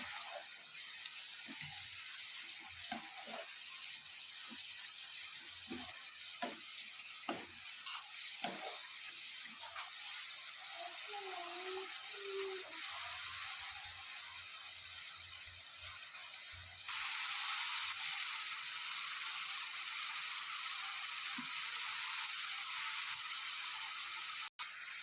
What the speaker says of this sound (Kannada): ಸ್ವಲ್ಪ ಚೆನ್ನಾಗಿ ಫ್ರೈ ಮಾಡಿ.